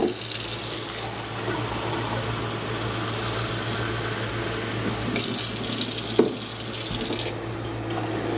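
Tap water runs steadily into a sink for rinsing sprouts, a continuous broadband hiss and splash that shifts slightly in tone partway through as the flow or vessel changes, close and fairly loud with no talking.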